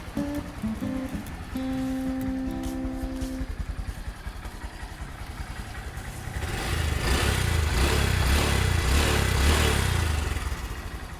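A stock-engined 2015 Honda MSX 125 motorcycle with about 57,000 km runs close by at a steady, even idle, then rises into a louder, rougher rev for the final few seconds.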